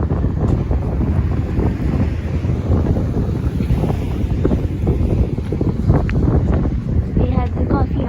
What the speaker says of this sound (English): I don't know if you can hear the wind, but it's extremely windy.